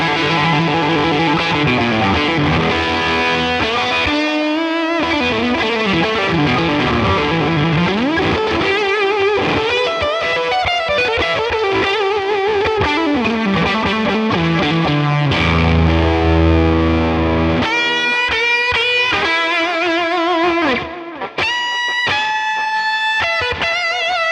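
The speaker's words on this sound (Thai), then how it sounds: "ผมเริ่มอยากได้ยินซาวเสียงแตกแล้วพี่" A Fender Custom Shop Limited Edition 70th Anniversary 1954 electric guitar is played through distortion and effects, with loud sustained chords and lead lines flowing continuously, close and dense, and a brief cut near the end before the playing resumes.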